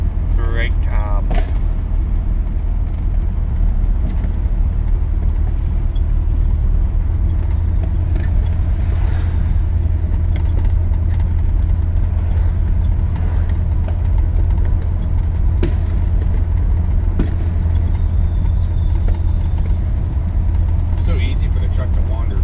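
An old farm truck's engine rumbles continuously and loudly while driving, a deep steady drone with rattles and knocks throughout, and people talk over it.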